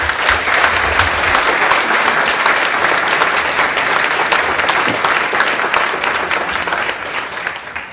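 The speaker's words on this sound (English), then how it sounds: "Join me in a nice round of applause for the guys." Sustained applause from a seated crowd at a USTA New England tennis awards luncheon in Marlborough, steady and dense for the full duration, tapering slightly near the end with no talking over it.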